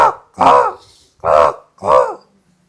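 A person mimics a crow with four loud, hoarse caw-like calls spaced evenly about half a second apart, with short silences between them and no other sound.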